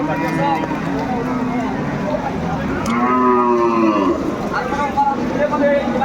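Cattle, bulls and heifers at a farm cattle sale, give loud, drawn-out moos, several in a row, close by, over a busy crowd of people talking.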